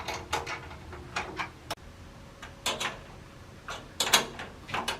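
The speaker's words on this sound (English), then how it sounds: "Use an M10 wrench to tighten them." A metal M10 wrench turns nuts tight while a luggage scale is assembled, giving a series of close, crisp ticks and clicks in an irregular ratcheting rhythm. Short pauses fall between the bursts.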